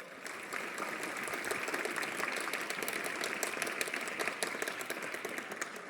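Continuous applause from an audience at a World Indigenous Peoples' Day event in Junnar, an even, fairly faint wash of many hands clapping that holds steady throughout with no voices.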